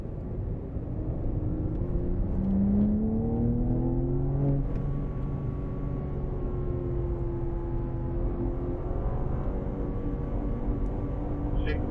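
A BMW accelerating on a race track, its engine note rising smoothly as it climbs through the revs, loud and close, with a steady rumble and whir underneath.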